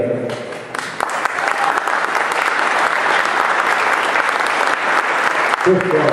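Employees at a car dealership meeting clap for the owner, a dense, loud round of applause sustained for several seconds, with voices briefly audible at the start and end.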